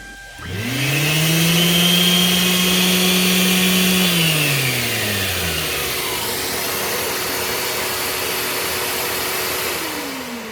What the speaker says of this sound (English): the shop vac will stay on for 10 or 15 seconds after you turn off the sander to clear the lines